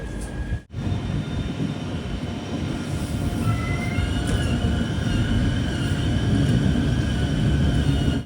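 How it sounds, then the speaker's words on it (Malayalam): The Poorna Express sleeper train runs into Londa station with a loud, steady rumble of wheels on rail, a brief gap near the start and faint high whines over the roar. "ട്രെയിൻ ഇപ്പോൾ ലോണ്ടയിലേക്ക് എത്തിക്കൊണ്ടിരിക്കുകയാണ്"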